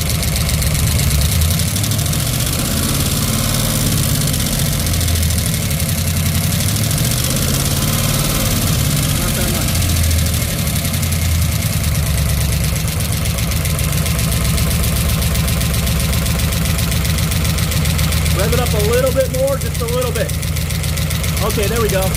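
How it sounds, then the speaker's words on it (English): A 1967 Pontiac Tempest engine idles steadily and loudly for the whole stretch, with mild rises in revs; a person talks briefly near the end. "Rev it up just a little bit more."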